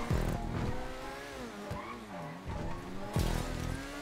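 Several cars race in GTA 5, engines revving and whining up and down in pitch under loud bumps and tire noise, continuous and close with no talk.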